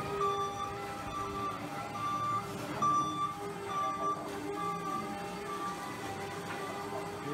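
A battery-powered yard-and-a-half mining loader running, its steady electric whine carrying through continuous machine noise with repeating tonal beeps and clanks, fairly close and moderately loud.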